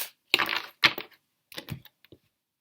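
Tarot cards being shuffled by hand, a few quick riffling bursts and soft slaps close to the microphone, separated by short silences, with no talking.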